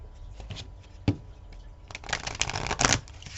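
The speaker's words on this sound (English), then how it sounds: "I'm going to pull more cards from a different deck" A deck of tarot cards is shuffled up close, starting with scattered taps and flicks, then building into a dense run of riffling card slaps.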